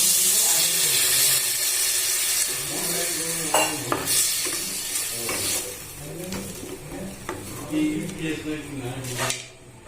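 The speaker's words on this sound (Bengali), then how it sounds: "এই সমস্ত কিছু দিয়ে আমড়াগুলোকে একটু ভাজা ভাজা করে নেব।" Hog plums fry with spices in a hot pan, giving a steady sizzle and hiss with scraping stirring strokes throughout. Occasional clinks cut through, and the sound fades slightly toward the end.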